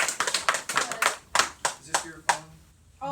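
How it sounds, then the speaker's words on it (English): A small audience claps briefly in a rehearsal or class setting, a dozen or so distinct sharp claps in the first two and a half seconds, then people talk. "Round of applause for Tonya."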